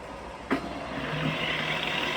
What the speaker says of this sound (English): Working of spindle at its maximum speed, that is 1470 rpm.